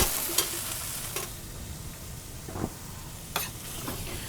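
Sauce cooking in a hot pan gives a steady, busy sizzle and crackle, close and fairly loud, broken by a few sharper pops and a light stirring scrape.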